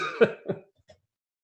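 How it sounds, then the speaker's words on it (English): Two quick, close coughs followed by a faint throat clear, then silence. "Shit, I'm coughing. Hold on."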